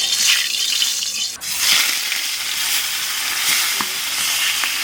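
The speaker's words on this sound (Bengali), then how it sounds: "মাছ কটা ভাজলে পরেই রান্না শেষ এবার লবণ হলুদ মাখিয়ে ভেজে" Fish coated in salt and turmeric frying in a pan, a steady close sizzle and hiss running throughout with occasional louder spits and pops.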